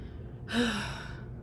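A single heavy, breathy exhale as someone catches their breath, a short sighing gasp rising out of a quiet room and fading after about a second.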